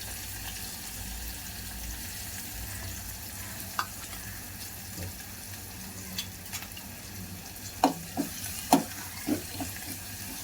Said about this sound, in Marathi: कढीपत्ता, चिरलेला कांदा त्यामध्ये घालत आहोत।